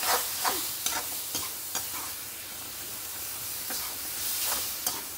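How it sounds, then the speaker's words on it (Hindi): Spices frying and being stirred in a pan: kasuri methi, red chili, coriander, turmeric and salt, with a steady close sizzle broken by repeated scraping stir strokes, no talking. "अच्छे से मसालों को भून लूँगी।"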